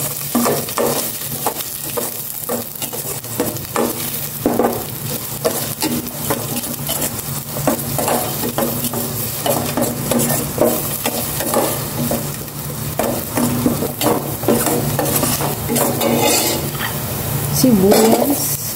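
Garlic frying in a pan on a gas stove, a close, continuous sizzle broken by frequent scraping stir strokes and clinks, with a louder burst near the end.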